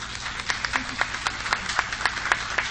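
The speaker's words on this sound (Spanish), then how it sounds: "pueden aplaudir por supuesto a los equipos" An audience applauds debate teams with a thin patter of clapping, a handful of distinct claps spaced across a quiet room, faint and without voices.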